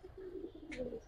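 Giribaz and coloring pigeons give a short, soft coo close by, with a brief rustle partway through.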